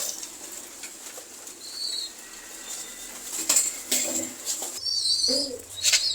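Pigeons in a pigeon loft coo and shuffle, with occasional soft wing flaps and brief calls over a quiet indoor background, moderately close and without speech.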